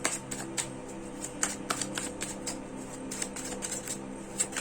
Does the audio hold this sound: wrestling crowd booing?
no